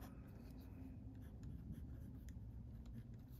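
A left-handed writer moves a pen nib across paper, producing a faint, continuous scratchy whisper with small tapping ticks, heard close up over a steady low background hum.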